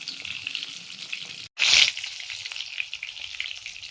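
Chicken kebabs frying in hot oil, a steady close sizzle and hiss that cuts out briefly and then swells louder before settling back to a constant crackle, with no voices.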